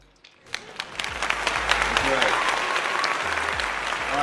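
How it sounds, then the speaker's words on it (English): A round of applause for Karina swells after a brief quiet start, many hands clapping densely and steadily at close to moderate distance until the end. "let's get a round of applause for Karina"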